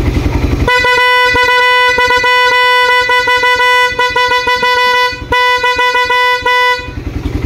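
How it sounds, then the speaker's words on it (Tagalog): A Pia horn fitted to a Suzuki Raider R150 motorcycle blares loudly and up close in a long, steady tone, with a brief break after about five seconds before it sounds again and cuts off. "Check po natin magbusina."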